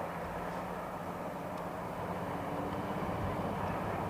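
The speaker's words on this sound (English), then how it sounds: "Cargo Jet 767 going out" A Cargojet Boeing 767 cargo jet departing Heathrow Airport, a steady broad engine roar held at constant loudness throughout, distant rather than close, with no talk over it.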